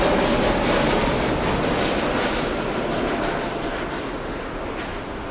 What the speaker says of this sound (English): this is Discover Flight 659 inbound from Tampa, Florida on an A330-300